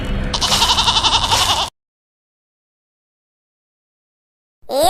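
Goats bleat in a cartoon, a rapid, loud, wavering series of repeated cries lasting under two seconds, then silence before a short voiced sound at the end.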